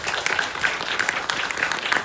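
Audience applause after a Korean short-film competition screening Q&A at the Jeonju film festival, a steady wash of clapping from a moderate-sized crowd at medium distance, even and continuous without a voice over it.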